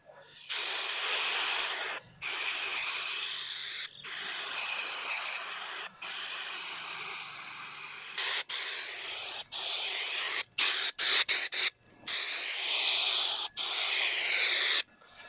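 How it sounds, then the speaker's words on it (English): A can of 3M high strength spray adhesive hisses in a series of bursts of a few seconds each, broken by short pauses and quick taps, close up in a workshop while interior trim pieces are made for a 1971 Toyota Celica. "It's using this high strength 3M spray adhesive."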